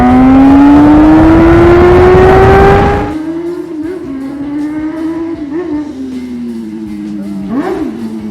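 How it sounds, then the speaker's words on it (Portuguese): Honda CB600F Hornet motorcycle engine roaring loudly at high revs, rising in pitch, then dropping abruptly to a lower, uneven idle-like drone with brief blips of throttle. "A cerejinha do bolo era o ronco do motor."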